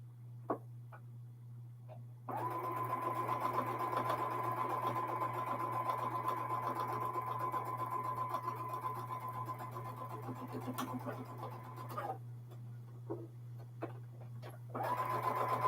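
A sewing machine runs steadily as it stitches the seams of a four-patch quilt block, a continuous close hum over a constant low electrical drone, stopping near the end with light handling clicks before starting again briefly.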